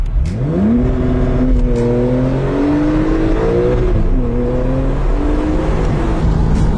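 A Porsche 991.2 Targa 4 GTS engine pulls hard, its loud, close note climbing steadily through the revs with a brief dip and recovery midway, heard alone with no talking.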